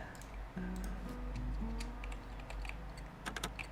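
Small dry clicks and ticks tumble irregularly with faint tonal scrapes, like lock pins being worked in a game, quiet and close.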